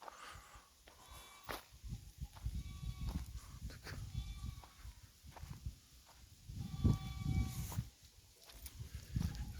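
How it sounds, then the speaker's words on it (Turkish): Goats bleat repeatedly at a distance on a highland pasture, scattered calls over soft shuffling footsteps and outdoor background noise under a large plane tree. "Kocaman bir çin ağacının altında o keçi seslerini duyuyorsunuz."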